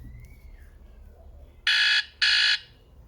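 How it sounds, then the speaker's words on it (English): Buzzer alarm on a Samsung Galaxy Gio phone: two loud, harsh electronic bursts about half a second each, separated by a short gap, following a quiet stretch with a faint tone. "Sunday, we got the buzzer alarm,"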